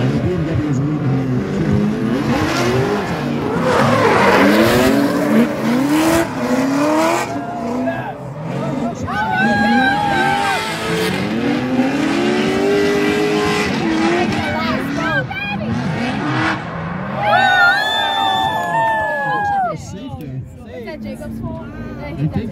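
Drift cars at a 2023 drift competition, a BMW leading, with engines revving hard and tires squealing in long rising and falling sweeps, loud and close, while a commentator talks over the action.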